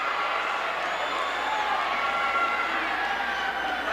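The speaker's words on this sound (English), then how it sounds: "that roar is accentuated by the manner in which the crowd responds" A wrestling arena crowd at a Manny Fernandez vs Tully Blanchard match gives a steady, dense roar and cheer that holds at an even level throughout.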